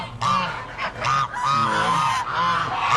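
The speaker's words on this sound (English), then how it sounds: "I do not need more geese, but you know, I gotta look at them." Geese at an animal auction give a run of loud, nasal honks close by, several calls in quick uneven succession with brief gaps between them.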